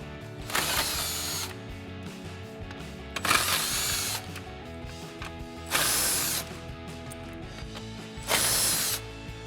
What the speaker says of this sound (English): we'll grab a 10mm socket and extension on our impact